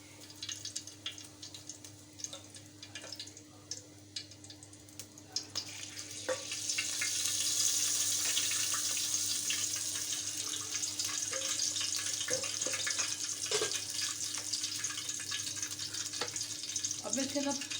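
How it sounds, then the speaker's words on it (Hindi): Cooking oil being poured into a pan for a kofta biryani, followed by a steady broad hiss building up and holding, close and fairly loud, with a few small knocks of kitchen utensils. "तो ये देखिए मैं तेल डाल रही हूँ।"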